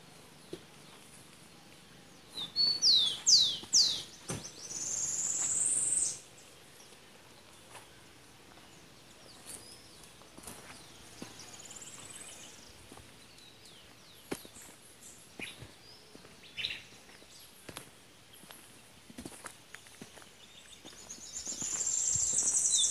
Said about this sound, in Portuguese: Escute os pássaros cantando.